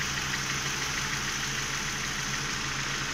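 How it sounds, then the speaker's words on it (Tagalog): A car engine keeps idling after its battery terminal is disconnected, a steady close rumble with a constant broadband hum and no voices. "tuloy pa rin po yung andar ng kanyang makina"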